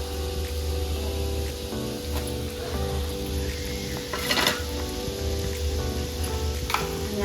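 Ground spice masala paste with coriander-cumin powder, turmeric, asafoetida and red chilli sautéing in a pan for a paneer curry makes a soft, continuous sizzle with occasional stirring scrapes and brief louder spits.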